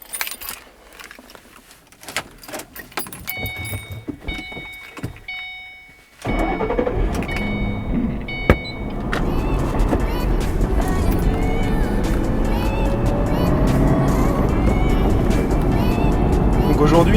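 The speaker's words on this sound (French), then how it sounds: "Aujourd'hui, je vais parler un petit peu de ce que ça fait de conduire une Mustang." A 2007 Ford Mustang GT-CS: keys jangle and controls click in the cabin, then the engine starts with a sudden rise into a steady, loud rumble that builds as the car pulls away, while someone talks.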